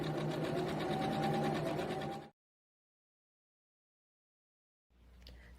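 A sewing machine runs steadily while top stitching fabric, a dense close mechanical whir for about two seconds, then silence, then a faint restart near the end.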